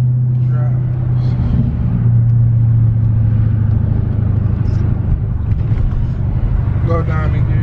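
Engine of a Dodge Hellcat widebody car while driving, a loud, steady low rumble that runs the whole time with slight swells, while people talk over it.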